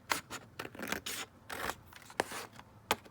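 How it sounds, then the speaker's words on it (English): Scissors trimming a white edge off paper for a folio, a series of close, crisp snips and cutting strokes spaced irregularly with quiet pauses between them. "So let's just cut this down a bit and just trim off that white edge."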